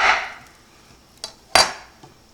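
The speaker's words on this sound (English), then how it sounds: "I'm going to cut my apple in half, and I'm going to cut it again." A knife cutting an apple on a board, a few sharp knocks of the blade striking through, spaced unevenly and close up, with nothing else in the background.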